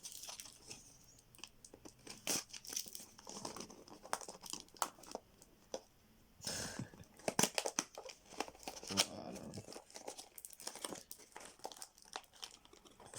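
A random booster pack wrapper being opened by hand, with repeated crinkling, tearing and crunching of plastic foil in irregular bursts close to the microphone, mostly alone with little talk.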